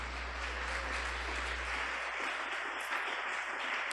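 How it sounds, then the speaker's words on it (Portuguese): A church congregation claps and applauds in a sustained broadband roar lasting the whole stretch, with no pauses and no speech over it. "Aplauda a Jesus por isso."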